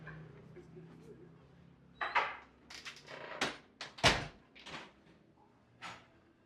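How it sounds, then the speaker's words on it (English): A hotel door unlocked by a button and opened, heard as a series of clicks, knocks and a latch clunk at close range over a low background hum, with some speech nearby. "Just the little button here, they'll unlock the door."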